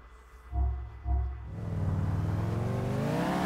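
A car engine in Grand Theft Auto IV gives two short loud revs, then climbs into a sustained, rising roar as it accelerates, with a whirring tone beneath.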